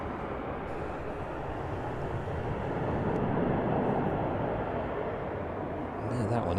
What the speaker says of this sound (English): And that next aircraft also on final approach.